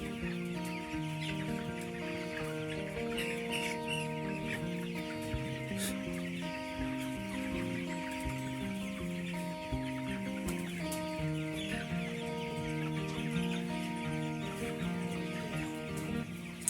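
Chickens at a farm cluck steadily and continuously at close range, with no talking, over a dense layered background that may include music.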